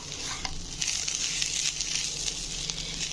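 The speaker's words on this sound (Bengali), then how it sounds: "আমার বিটরুটটা প্রায় কিন্তু ভাজা হয়ে গেছে" Beetroot and grated coconut fry in a pan with a steady, close sizzle and faint crackle, alone without talk.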